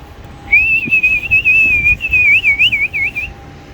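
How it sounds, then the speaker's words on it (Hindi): A loud, close human whistle calling pigeons, held as a long steady tone, then breaking into a warbling trill, with faint background noise beneath. "किसी चीपी दे रहे हैं और सीटी दे रहे हैं कबूतरों को"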